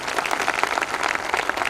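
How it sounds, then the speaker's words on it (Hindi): An audience at a function in Malkapur breaks into dense, continuous applause, many hands clapping together at a fairly close, steady level without voices. "एक बार खुद के लिए जोरदार ताली होनी चाहिए डियर फ्रेंड्स।"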